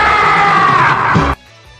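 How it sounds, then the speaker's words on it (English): A Great Ape Oozaru roars in a Dragon Ball Z Super Saiyan 3 transformation scene, one loud, sustained, strained scream that cuts off abruptly to near silence. "We can hear the scream of the Yozaru in the background"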